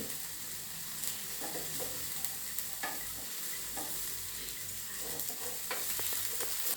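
Paneer pieces sizzling quietly on a hot tawa, with soft intermittent stirring and scraping, a constant low frying hiss heard close up and fairly faint.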